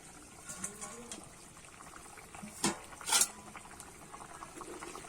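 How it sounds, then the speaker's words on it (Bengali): Rohu fish curry broth with tender bottle gourd simmering in a pot: soft, faint bubbling with scattered small pops and a couple of louder splashy bursts midway. "ঝোলটা কিন্তু ভালোভাবে ফুটে গেছে"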